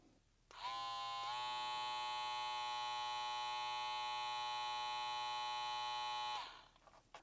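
A Kemei KM-1386 hair clipper switched on at its high speed setting gives a steady, loud electric buzz with a strong harmonic whine. It starts after a brief pause, steps up slightly in pitch, then holds evenly for about six seconds before cutting off.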